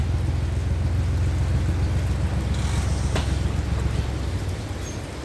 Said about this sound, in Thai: ฝนเข้ามาอีกแล้ว